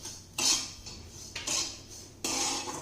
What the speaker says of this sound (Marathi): या ठिकाणी मीडियम गॅसवर मी हा रवा भाजत आहे.